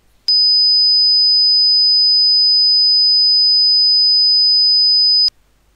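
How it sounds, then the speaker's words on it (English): A pure 5000 Hz sine test tone sounds alone, loud and perfectly steady for about five seconds, starting and stopping abruptly with a faint click at each edge. "here's an example of a sine wave at 5000 Hz"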